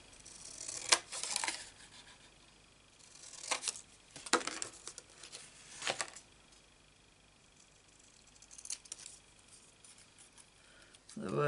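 Quiet handling noises as scissors are put away: a few sharp snips and metallic clicks spaced apart, with faint rustling between them.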